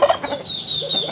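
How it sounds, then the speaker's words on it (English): A large blue-faced turkey gobbles nearby in a rapid, warbling burst, with chickens faintly clucking alongside in a tree on Mexico's Gulf Coast, Veracruz, no people talking. "Look at the size of this turkey."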